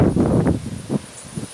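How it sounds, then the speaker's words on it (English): Wind gusts outdoors by a barn among locust trees buffet the microphone in low, uneven rumbling bursts, loud and close, with no talking. "Sorry about the wind."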